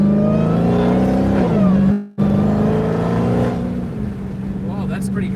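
A Dodge Durango SRT's engine roars and revs close by during acceleration, with a steady deep drone. It cuts out for a moment during a gear shift and then pulls hard again, settling into a lower note.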